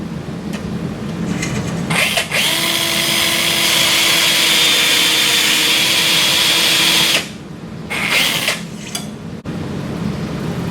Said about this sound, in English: drive over the guide pin until the nose of the reamer bottoms out on the screw